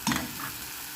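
Onions and green chilli frying in a pan for a vada curry, a faint sizzle with a quick scrape of a spoon stirring at the start.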